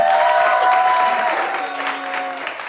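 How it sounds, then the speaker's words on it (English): An audience claps and cheers at a live event, a full burst of applause that is loud at first and fades slightly as it goes on. "If I do, give me a round of applause."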